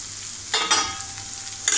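Chopped tomato sautés in a pan for prawn masala, with a soft background sizzle and two short, scraping stirs of a spatula close by.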